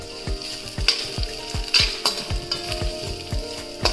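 Vegetables for veg fried rice are stir-fried in a pan, giving a steady close sizzle with regular rhythmic scraping and tossing strokes about every quarter second.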